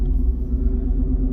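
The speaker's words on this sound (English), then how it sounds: "listen to that exhaust note from inside the cab" A Corsa Extreme exhaust on a 2018-2020 Ford F-150, heard from inside the cab with the window rolled down, gives a brief, steady, deep low rumble.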